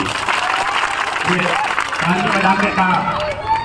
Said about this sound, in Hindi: अपने बदहाली की बात सुनकर ताली बजा रहे हैं।